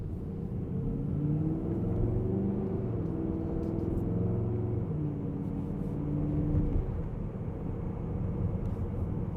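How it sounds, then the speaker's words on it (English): A Mercedes AMG GLE 63S V8 SUV on a night drive with its exhaust valves open, giving a steady deep rumble with rising and falling engine tones as it accelerates, heard from inside the cabin with no talking. "Open up the exhaust valves, sounds way too quiet without it."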